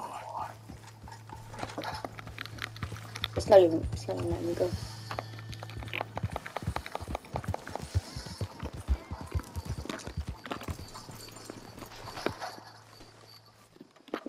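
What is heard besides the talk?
horse galloping in Red Dead Redemption 2 video game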